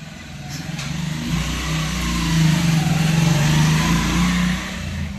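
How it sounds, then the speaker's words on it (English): A motorbike passes on a nearby road beside a shop, its mid-pitched engine swelling louder and then fading over a steady rumbling background. "Another bike is passing."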